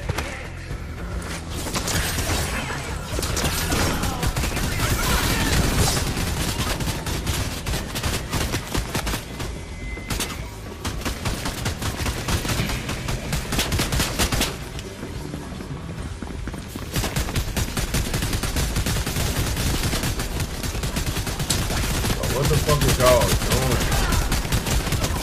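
Dense, continuous bursts of rapid drum gun fire from a Fortnite-style shooter, loud and sustained with overlapping shots and clattering mechanical clicks throughout.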